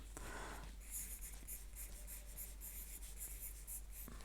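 A pencil scratches across paper during gelli plate printing, close and quiet, in rapid repeated strokes with a short rustle at the start, over a low steady hum.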